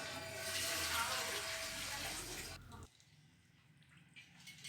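Water is poured into a pan of browned masala for a koi fish curry with cauliflower, a soft splashing rush for a couple of seconds that stops abruptly, leaving quiet.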